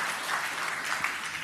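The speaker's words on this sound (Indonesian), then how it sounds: "Yang setuju tepuk tangan yang meriah bagi Tuhan Yesus." A church congregation applauds in a steady, dense wash of clapping that stays fairly faint and even throughout the short burst, with no voices standing out.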